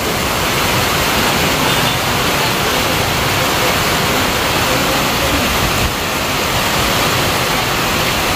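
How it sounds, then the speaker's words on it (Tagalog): Heavy rain pours down steadily during a storm, a dense, loud, unbroken roar with no pauses. "Ang lakas guys ng ulan,"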